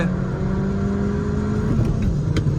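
Skoda Laura and Mercedes C200, both stage 1 tuned, accelerating hard side by side in a drag race, a loud engine drone with a steady rising tone and a busy low rumble, no talking.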